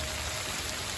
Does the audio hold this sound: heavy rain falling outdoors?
yes